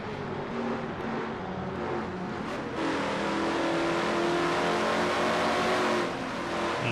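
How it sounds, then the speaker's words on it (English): A video game race car engine at Riverside drones loudly, then jumps in pitch partway through as it shifts up into third gear and keeps accelerating. "You heard Dylan slam it back up in the 3rd gear."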